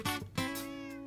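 A Minecraft cat gives two quick meows, then a longer drawn-out one. Clear and close, with no talking over it.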